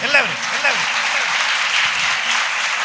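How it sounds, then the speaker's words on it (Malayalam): An audience at an arts fest inaugural function claps, a dense, steady patter of many hands. It sounds fairly close and continuous, with a voice speaking over the start. "നന്നായി കൈയടിക്കുകയും ചെയ്യണം."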